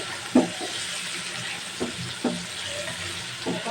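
Chili, cumin and coriander powders sautéing in a pan for a mung dal and chicken dish, a constant sizzle broken by several soft stirring scrapes and taps of the spoon.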